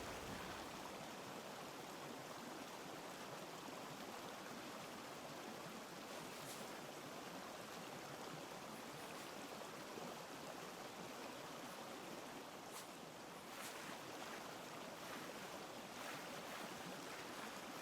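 A video game waterfall rushes steadily as a dense, even roar of falling water, faint and continuous throughout with no talk.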